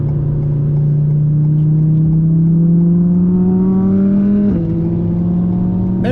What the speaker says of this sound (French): Ça c'est une chouette auto la STO